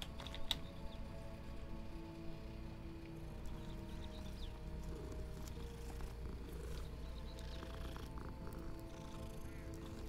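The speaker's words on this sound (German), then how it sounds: "Einmal Katze kraulen." A cat purrs softly while being petted, a faint, steady low rumble running the whole time with small clicks and rustles around it and no voices.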